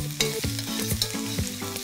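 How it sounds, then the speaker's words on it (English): Onion, peppers and carrot sizzle in a frying pan while being stirred, with a steady frying hiss under rhythmic scraping strokes of the spoon against the pan. "Just give that a quick stir."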